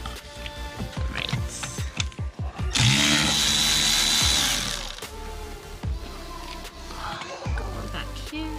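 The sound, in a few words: ratchet removing valve cover bolts on a BMW E28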